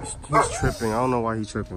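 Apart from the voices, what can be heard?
dog barking and whimpering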